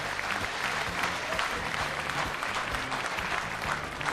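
A studio audience at the Uzbek game show Omad Shou applauds continuously, a dense, even wash of clapping sustained at steady volume throughout.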